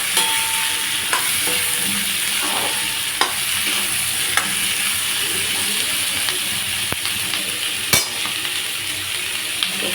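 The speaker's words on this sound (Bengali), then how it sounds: "এবার এটা এখানে ভাজা হোক, পেঁয়াজ আর ক্যাপসিকামটা" Onion and capsicum fry in a pan with a steady close hiss, punctuated by sharp clicks and scrapes of a utensil stirring every few seconds.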